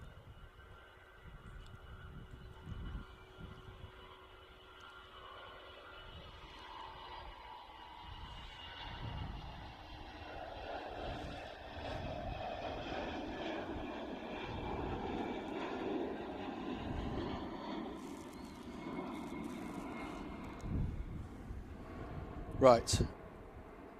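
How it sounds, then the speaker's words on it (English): A Boeing 767-300 departing Manchester Airport for Iceland rumbles in the distance, its engine roar swelling gradually and staying faint beneath someone talking. "first of our two featured departures, 767-300, going back to Iceland"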